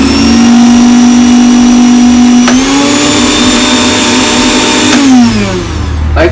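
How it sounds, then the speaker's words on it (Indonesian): A repaired electric blender runs at full speed, a loud steady motor whine with a pitch that dips and shifts slightly a few times, continuous and alone with no talk. "tutorial cara menangani blender yang mati dan sekarang sudah hidup kembali"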